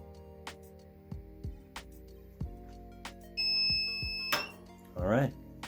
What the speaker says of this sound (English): And then once it buzzes, I turn it off.